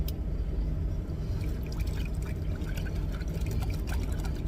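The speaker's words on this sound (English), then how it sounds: "We got some water." Water poured inside a truck cab while Thanksgiving dinner is being cooked, a steady trickling stream with small splashes and drips over a low rumbling background, moderately close and without talk.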